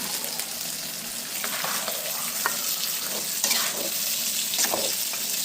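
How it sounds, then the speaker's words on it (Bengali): Desi (country) chicken pieces sizzle and fry in a pan of cooked-down spiced masala, a steady close hiss broken by scraping stirs, with no voices. "যেহেতু মশলা কষানো হয়ে গেছে, এখন আমি দেশি মুরগির মাংস এর মধ্যে দিয়ে দিচ্ছি।"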